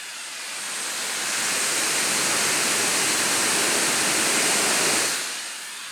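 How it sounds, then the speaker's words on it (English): The cooling fans of a Lenovo Legion Go handheld in performance mode spin up to a loud, steady whooshing roar, hold for several seconds, then wind down, with no one talking. "the fans will sound roughly like a random jet engine."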